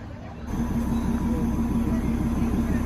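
Darjeeling Himalayan Railway train running through Darjeeling town, a steady low rumble and rolling clatter that swells in after a brief quieter start and holds close and continuous.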